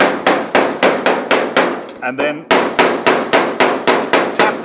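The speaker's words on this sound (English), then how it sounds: "So I get the hammer and push the metal into the center." Heated body metal on a 1936 Terraplane coupe is struck with a hammer in a steady run of sharp, loud blows about three per second, briefly pausing while someone says a couple of words, then resuming.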